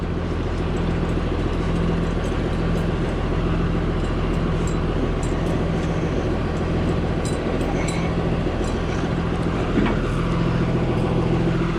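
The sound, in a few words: yard dog truck with 5.9 Cummins 12-valve engine driving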